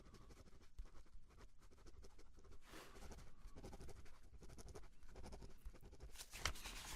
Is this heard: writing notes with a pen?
yes